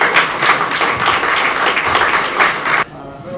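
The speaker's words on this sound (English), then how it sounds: "with a round of applause, let us welcome to the podium Mr." An audience at a formal business address gives a round of applause as a speaker takes the podium, dense, steady clapping at close range that cuts off abruptly near the end.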